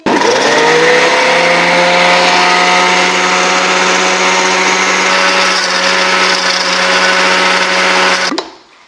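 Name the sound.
blender running on low speed making mayonnaise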